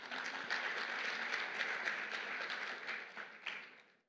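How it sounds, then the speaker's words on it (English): Audience at a provincial gala dinner clapping together, a loud, even patter of many hands sustained for a few seconds before fading away at the end. "we can do better in clapping our hands"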